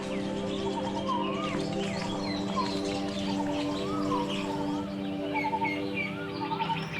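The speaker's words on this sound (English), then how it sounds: "I don't think I've ever heard this many birds in one place." A dense chorus of many different birds in Bangkok, set among small lakes surrounded by rivers, chirping, whistling and calling continuously over a steady background hum.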